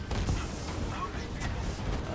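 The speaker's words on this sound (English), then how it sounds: "A lot of explosions happening here." Explosions in the Avengers video game while playing as the Hulk, a dense rumbling barrage of low booms and blasts running continuously at moderate loudness, with a few sharper cracks.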